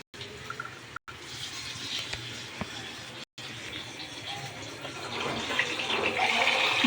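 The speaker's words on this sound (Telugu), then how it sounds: "ఇది ట్యాప్ నాయన, ట్యాప్ తిప్పేస్తుందిరా నాయన నాతో" A kitchen water tap is turned on and runs with a steady splashing rush that grows louder toward the end, with short breaks in the sound near the start.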